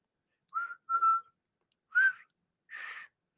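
A person whistles four short, clear notes with gaps between them, near and fairly loud, against silence.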